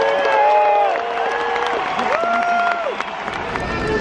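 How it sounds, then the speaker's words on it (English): At a 2018 political rally in Billings, Montana, a large crowd applauds a congressman's introduction, with a loud wash of clapping threaded by rising and falling shouts and cheers throughout. "Give a great round of applause."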